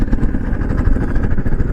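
A motorbike engine in a forest between Kotabagh and Pawalgarh, rumbling loud and steady at close range throughout, with no voices.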